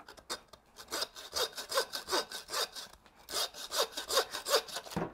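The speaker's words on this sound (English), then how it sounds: "That's all the sawing you need to do on this piece." A hand saw rasps back and forth through a venison shoulder bone in rapid rhythmic strokes, close and clear, pausing briefly midway before resuming.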